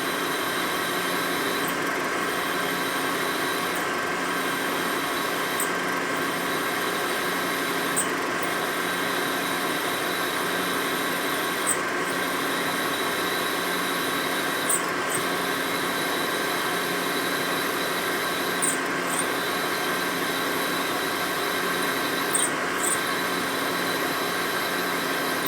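A power drill grinds steadily through a Harley-Davidson Sportster 1200 Ironhead engine part during a top-end rebuild, a continuous whining drone with faint periodic ticks, close and uninterrupted.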